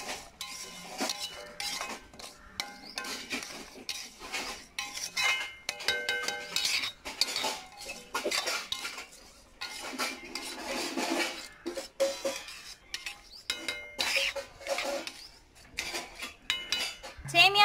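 A metal spoon stirs vermicelli roasting in ghee in a pan, giving repeated clinks and scrapes against the metal in an irregular rhythm for a long stretch, close by and fairly quiet.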